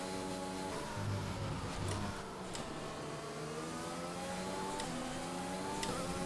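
A Williams Formula 1 car revs and accelerates in an F1 racing video game, a steady, dense high-pitched engine whine with rising gear pitches, continuous and loud with no pauses.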